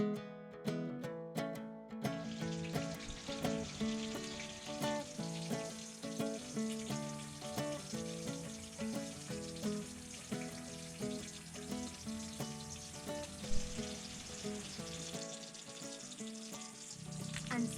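Fresh chili lumpia sizzle and crackle in hot oil, a steady close frying hiss with bubbling pops running throughout, no talk over it.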